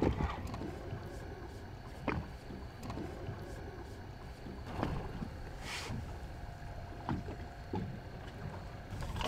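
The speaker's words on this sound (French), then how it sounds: "Et j'ai mon moteur qui est en train de descendre à l'eau." Electric trolling motor on a small fishing boat lowering itself into the water while out squid fishing, a low mechanical hum with knocks and splashy bumps over steady wind and water noise.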